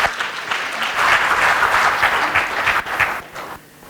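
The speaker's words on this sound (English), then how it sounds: "So a huge round of applause for those who are here" An audience at a gathering of students and their families claps in steady, dense applause for several seconds, then fades at the end.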